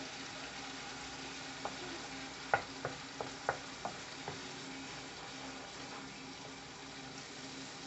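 Shrimp frying in a pan of spiced taro stolons, a steady low sizzle with a handful of sharp scraping knocks from a stirring spoon clustered midway, close and moderately loud.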